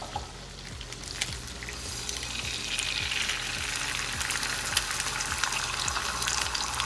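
Oil sizzles steadily in a frying pan on the stove as it heats before eggs go in, a close, continuous hiss that grows slightly fuller as the oil is swirled around, with a faint low hum underneath.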